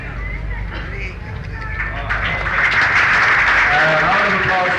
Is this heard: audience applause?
yes